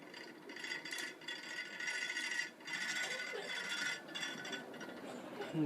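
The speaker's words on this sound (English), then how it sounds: "This thing's got a startup sound to it too when it goes on the high." A Codep Stratosphere IV ceiling fan starts up on high speed, a mechanical whirring and ratcheting scrape with a rhythmic rubbing that rises and dips in a few surges, moderately faint and steady.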